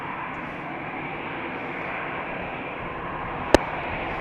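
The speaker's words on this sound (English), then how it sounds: "an A319 from EasyJet outbound to London Stansted" An EasyJet Airbus A319 bound for London Stansted takes off from runway 36L at Amsterdam Schiphol, a steady broad jet roar holding evenly throughout, with one brief sharp click near the end.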